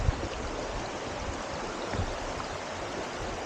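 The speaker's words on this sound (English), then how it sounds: "Beautiful little river going by," A small river or creek flows steadily nearby on a trail walk between a brook campsite and a shelter, a continuous broadband wash of moving water with no talking.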